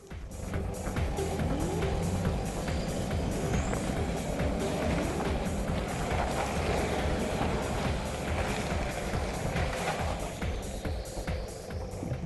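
A Toyota Prado 4WD in first gear low range with ARB air lockers engaged crawls up a slippery, undulating steep hill, its engine droning steadily and close throughout with rough tyre and gravel noise.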